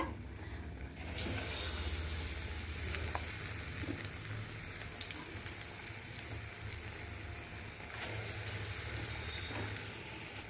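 Chilli and onion bajji fritters made from ground rice batter fry in hot oil, giving a soft continuous sizzle and crackle with scattered pops, faint and steady throughout.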